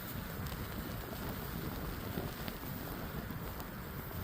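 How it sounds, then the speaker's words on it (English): Rain falls steadily along countryside paths in Lancashire, a faint, even hiss spreading across the whole stretch with no talking and only a couple of slightly sharper drips standing out. "It's just started raining again"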